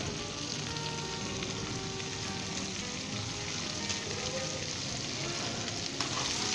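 Cut cauliflower and potatoes fry in a pan of spiced oil for a Bengali aloo gobhi, giving a loud, dense, unbroken sizzle with a fine crackle and no voices.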